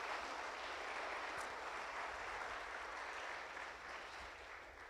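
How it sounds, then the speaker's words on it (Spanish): A church congregation at an Easter Sunday service applauds steadily, a dense sustained wash of clapping that fades slightly toward the end, with no voices over it. "Dale palmas a Jesús."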